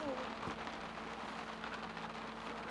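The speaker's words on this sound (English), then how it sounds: "it's just raining like this" Rain falls nonstop on a hand-built camper in a stormy Pacific Northwest night, a constant dense patter on the roof, soft and steady, with a faint voice beneath it.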